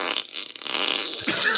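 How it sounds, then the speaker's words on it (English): A gassy fart sound effect played by an Alexa smart speaker: a long, loud, sputtering blast ending in a brief higher burst. "Here comes a gassy fart."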